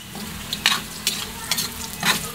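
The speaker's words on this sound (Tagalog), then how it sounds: "Iprito muna natin tong kikiam." Hot oil sizzles steadily as fish balls fry in a pan, with a few louder crackling bursts and stirring scrapes, no voices.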